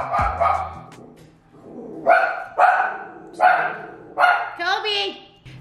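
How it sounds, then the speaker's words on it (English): A dog barks at people in a home kitchen: several sharp, close barks in quick succession, ending in a whine, with people talking over and around them. "he likes to bark at people"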